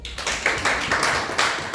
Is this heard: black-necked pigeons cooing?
no